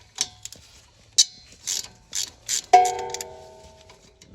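Ratchet wrench breaking loose a 14mm brake line bolt on a 2019+ Toyota Corolla (E210), a series of close, sharp clicking bursts followed by a ringing metallic tone as the fitting gives.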